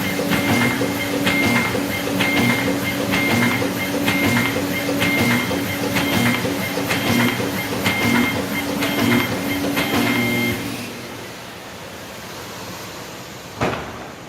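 A Bacciottini OXO Multiskill creasing and folding machine runs big sheets of 0.18 thickness with a steady, rhythmic mechanical clatter for about ten seconds, then winds down to quiet, with one brief thump near the end.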